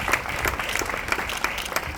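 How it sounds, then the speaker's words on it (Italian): An audience claps steadily at a book presentation by author Piergiorgio Pulixi at the Éntula festival in Cagliari, with dense, continuous applause filling the room throughout. "Facciamo un applauso anche a Francesca Casula"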